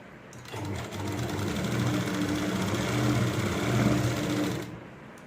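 A sewing machine runs steadily, stitching the folded seam of a Rajputi lehenga with an even, continuous mechanical whir from start to finish, close up and with no talk over it.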